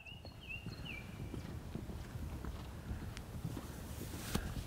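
A horse's hooves clip-clop in a steady rhythm on an arena surface during a show-jumping clinic ride, with soft wind noise and a faint high whistle-like tone early on.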